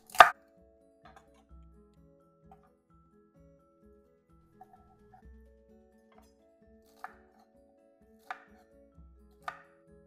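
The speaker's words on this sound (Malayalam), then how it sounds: "ഒന്നിച്ചങ്ങ് കട്ട് ചെയ്താൽ മതി" A knife chops vegetables on a cutting board, cutting them together rather than one at a time: one sharp strike, then sparse, soft, irregular knocks separated by long quiet gaps.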